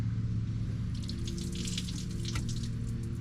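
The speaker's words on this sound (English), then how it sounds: "There's a lot of coolant in there still." Engine coolant spilling and trickling out of a lifted TDI cylinder head during an engine teardown, a soft steady pour of liquid with a low hum underneath.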